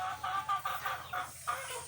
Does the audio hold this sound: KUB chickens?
yes